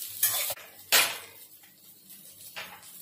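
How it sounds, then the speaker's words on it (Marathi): Vegetables being stirred in a pan with a metal spoon: two sharp scraping clatters close up, then quieter scrapes and a faint sizzle, with no voices. "आणि मध्ये मध्ये त्याला परतत राहायचं, नाहीतर मग परतून जाणार।"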